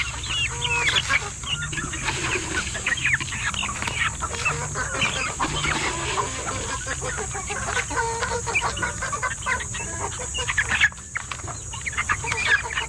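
Young one-month-old chickens being raised on a farm, a dense flock cheeping and clucking continuously and fairly close, with scattered higher chirps layered throughout.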